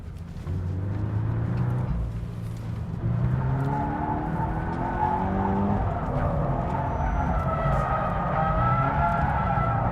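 A car drifts around a center cone on a track, its tires squealing steadily under a loud, revving engine that rises and falls throughout, heard close and with no talking.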